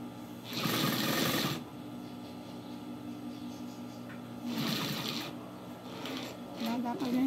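A sewing machine stitching thick fabric runs in two short bursts of whirring, with someone speaking over a low hum between the bursts.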